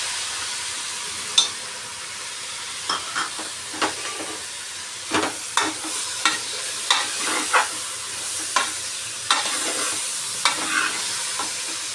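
Onions and tomatoes fry in a hot pan with a steady sizzling hiss, broken by a string of sharp scraping clacks as a spatula stirs the mixture for a gourd palya.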